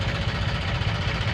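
Close by on a ghat road at night, a tractor idles with an even, throbbing low rumble and no voices.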